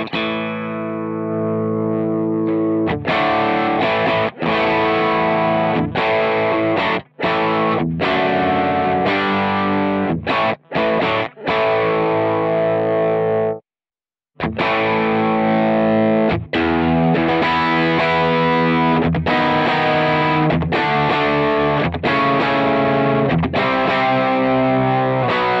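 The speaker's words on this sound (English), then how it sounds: "you can get some really nice sort of vintage drive tones out of it" Electric guitar with a vintage overdriven tone through a Cornell Studio Rats prototype amp, chugging strummed chords in a steady rhythm with a few short stops and one clear gap midway, loud and close, no voices.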